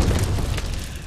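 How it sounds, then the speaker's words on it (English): A deep explosion boom rumbles loud and steady, its low-end roar filling the whole moment before slowly easing off, with no voices over it. "But the explosion is never quiet."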